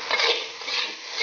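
Rice being stir-fried with pig weed greens in a wok, a steady scraping and rustling of spatula through grains at close range, continuous across the moment with no voices.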